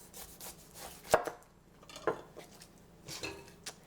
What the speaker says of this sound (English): To do that, I'm going to cut off the other end as well.